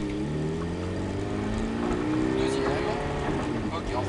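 A Ferrari F430 accelerates on a race track during a driving course, its engine note climbing steadily and loudly through the revs, close and continuous, with a voice speaking over it.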